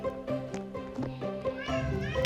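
A girl imitating a cat, giving a run of short, tonal meows one after another at close range.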